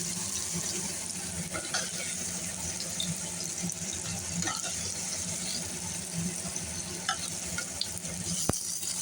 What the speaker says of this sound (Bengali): পনিরটা একটু ভাজা ভাজা করে তুলে নিচ্ছি